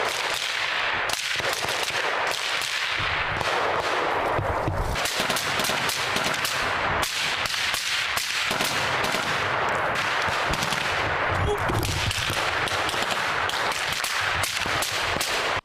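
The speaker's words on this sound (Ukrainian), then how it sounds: "Інтенсивний стрілецький бій зав'язується блискавично." Intense bursts of rapid small arms gunfire crack repeatedly in a firefight, loud and close, with brief gaps between volleys and no speech.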